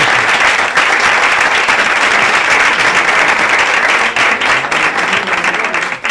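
Audience at a book presentation on World Book Day breaks into loud, sustained applause, dense clapping filling the room steadily for several seconds without pause.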